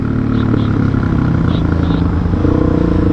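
A motorcycle engine roars at speed in a constant loud, close drone with wind rush throughout, no pauses or changes in pitch.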